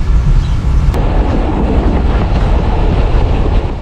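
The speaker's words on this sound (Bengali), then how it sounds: "হেলে দুলে এগিয়ে চলছে মধুমতি এক্সপ্রেস।" Modhumoti Express with its old vacuum-brake rake rolling along, a loud close rumble of carriages with rhythmic rail clatter and a brief sharp click near the start, steady throughout without talk.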